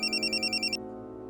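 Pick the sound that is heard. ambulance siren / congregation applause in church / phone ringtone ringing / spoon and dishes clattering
phone ringtone ringing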